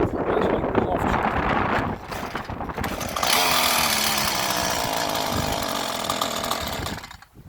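A chainsaw with no fuel in it as its starter cord is yanked, producing rough rasping pull sounds and mechanical rattling, close and loud outdoors in the woods with wind noise while someone talks over it.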